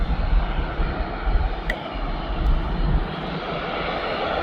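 A Boeing 737-800 departs East Midlands Airport, its jet engines producing a loud, steady roar that fills the whole stretch.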